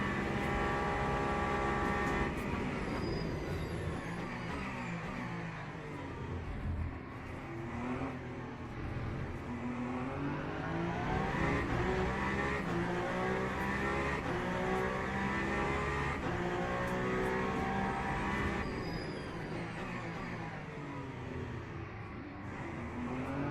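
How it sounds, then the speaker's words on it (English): A Ferrari race car accelerating hard, its engine note climbing steadily through the gears and pulling away. The loud, continuous motor sound fills the whole stretch with no talking. "The Ferrari acceleration as well."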